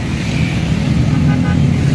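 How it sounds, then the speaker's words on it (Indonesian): Dense road traffic streams past a bus ticket office, a loud continuous rumble of engines and tyres with a brief horn toot, steady throughout before a sudden cutoff at the very end. "Lalu lintas super padat di depan loket."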